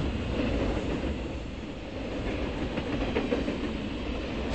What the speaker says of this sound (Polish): Dokąd jedzie ten pociąg?